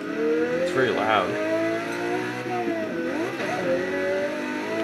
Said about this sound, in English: So as you can see, this one's backfiring too.